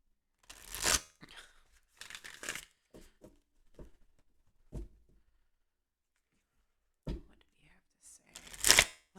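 Tarot cards are shuffled in several short, crisp bursts of riffling and flicking, separated by near silence, close to the microphone and with no talk over them.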